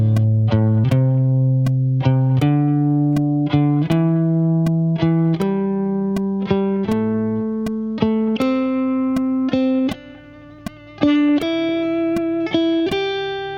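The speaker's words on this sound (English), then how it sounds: "a dotted quarter note with an eighth note behind it?" Guitar notes picked in a steady long-short rhythm, each dotted quarter followed by an eighth note, with a brief gap near the end; clear, close and alone with no talking.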